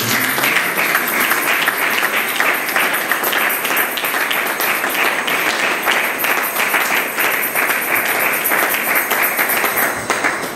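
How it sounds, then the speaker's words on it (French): A church congregation at a wedding applauds with sustained, dense clapping that fills the room evenly throughout, loud and close, with no voices standing out. "l'ensemble en acclame pour la gloire du Seigneur"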